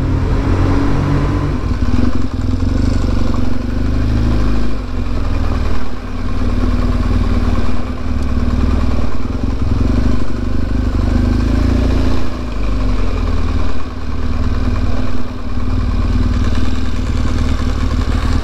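Motorcycle ride along a coastal road in Algeria, with a steady, loud engine drone and wind rush running continuously throughout, close and unbroken.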